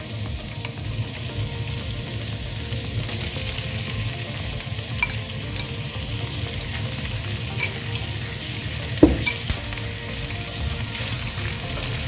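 Chopped onion, garlic and ginger fry in hot oil in a pan, a continuous close sizzle with occasional spoon scrapes and a sharper clatter near the end, no one talking.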